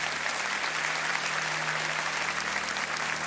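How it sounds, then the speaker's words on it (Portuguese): A church congregation at a Sunday service claps in welcome, a steady even wash of applause from a large crowd, moderately distant and unbroken throughout. "Uma salva de palmas para ele,"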